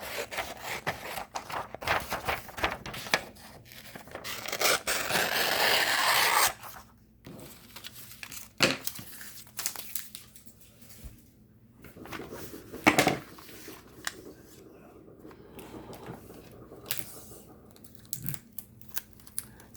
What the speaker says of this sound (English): I'm going to go ahead and just cut it out with scissors